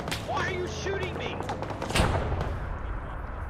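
Gunfire rattles through a military video game battle, dense bursts and thuds layered over a noisy combat mix with voices talking throughout.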